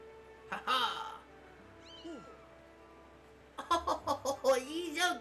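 A cat creature in a Zelda video game meows in a short call, then gives a rapid run of several higher meows, close and clear with a quiet tone underneath.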